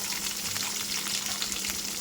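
Ground onion mixture and peanuts fry in oil for Telangana-style raw mango pulihora, making a soft, even sizzle with light stirring sounds and nobody speaking.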